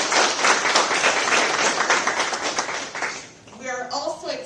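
Applause for College Corps students at a community event in Indio, California: a dense, steady wash of clapping for about three seconds, then a speaking voice takes over.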